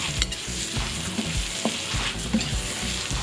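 Mung bean filling is stir-fried in a pan with rhythmic scraping and clattering strokes over a steady, close sizzle, repeating several times in quick succession.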